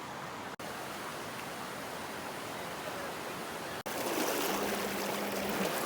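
Water from the Pasig River rushing steadily during a river crossing on a hike, a broad continuous wash that swells louder partway through after a brief dropout, with no voices.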